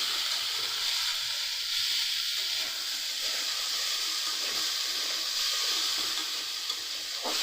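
Ridge gourd and potatoes frying together in a pan, a steady close sizzle and hiss running throughout with occasional stirring scrapes.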